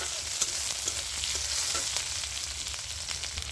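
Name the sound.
chopped onion frying in a pan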